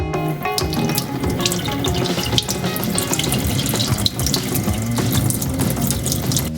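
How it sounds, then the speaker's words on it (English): Cold water runs steadily from a tap into a flask, a continuous gushing splash with no voices. "To make it work, it needs to be filled with as cold of water as possible."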